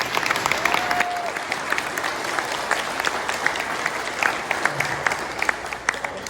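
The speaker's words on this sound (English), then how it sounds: "let's give Ashley a round of applause." Applause from an audience at a school district ceremony fills the room, many hands clapping steadily at a lively, even level for several seconds, with a faint tone briefly audible early on.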